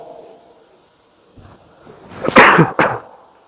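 After a quiet stretch, one person lets out a loud, forceful cough close by, followed by a shorter second burst.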